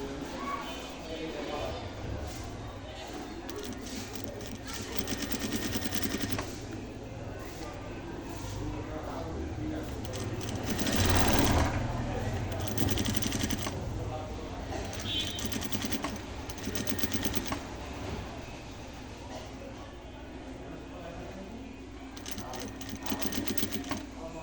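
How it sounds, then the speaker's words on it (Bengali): Sewing machine stitching a zipper onto the back of a kameez, a steady continuous mechanical whir with rapid needle chatter that swells briefly midway, running with voices underneath. "চেনের থেকে একটু দূরে সিলাইটা দেবেন"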